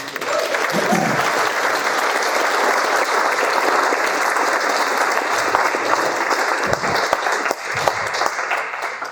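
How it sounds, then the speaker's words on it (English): Wedding guests break into loud, sustained applause, a thick continuous clatter of many hands that thins slightly near the end, with a few voices mixed in. "So maybe we'll just show a round of applause too."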